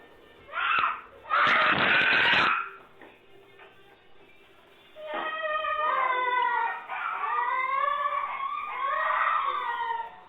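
Children in a supposedly haunted house scream in panic, their shrill, wavering cries overlapping for several seconds after a couple of loud noisy bursts.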